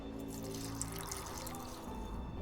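In The Witcher 2, water trickles and pours steadily into a flask during potion crafting, a soft continuous liquid sound set against a dense game ambience, with no one talking.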